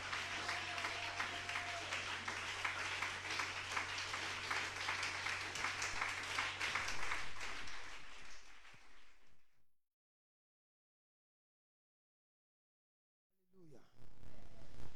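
A church congregation claps and cheers in praise during a morning service, dense sustained applause with a low hum beneath it, breaking off into silence before a fresh burst of clapping starts up at the end.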